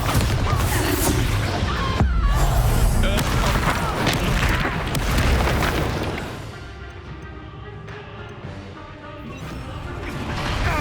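Confringo blasting spell going off in Hogwarts Legacy: a loud, dense run of booming crashes and smashing impacts for several seconds, then a quieter rumbling tail with a fresh swell at the end.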